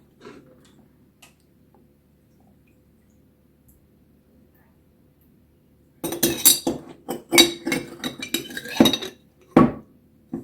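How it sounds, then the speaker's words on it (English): A spoon scooping maple syrup: a quiet stretch gives way to a burst of close metallic clinks and scrapes against the container, repeated in quick irregular bunches. "now you get 2 big scoops of maple syrup"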